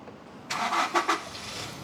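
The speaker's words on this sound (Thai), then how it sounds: "เสียงเครื่องดีนะครับเสียงเครื่องเดิมนะครับ" After quiet, the 2.4-litre diesel engine of a 2018 Toyota Revo pickup truck cranks in a few quick pulses and then catches into a steady running rumble, heard close by.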